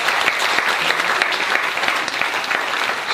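Dense, steady applause and cheering from a congregation at a faith healing service in Taravao, French Polynesia, filling the whole stretch at close range with no pauses.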